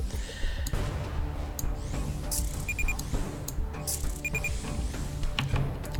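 Warning beeps from the video game Aven Colony repeat in short, bright electronic bursts spaced irregularly across the clip, sitting over a dense layer of game music and ambient sound.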